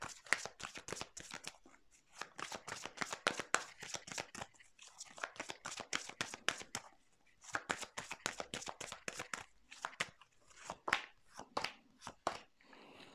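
Tarot cards are shuffled in a rapid riffling run of dense crisp card flutters, repeating in several bursts with short pauses between, close and moderately quiet, with no talk.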